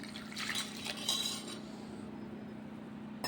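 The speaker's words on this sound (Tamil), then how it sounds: "இதை நம்ம இந்த தண்ணியும் நம்ம இதிலே ஒன்று சேர்த்து வச்சிடலாம்." Water pours into a mashed mixture for sambar in a home kitchen, a brief liquid splash and pour with faint clinks of utensil on vessel, fading into a low steady background hum.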